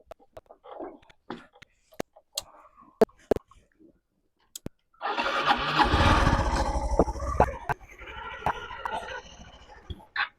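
A motorcycle engine catches after a few sharp clicks and knocks and then idles loudly and roughly up close, while a chicken clucks faintly nearby.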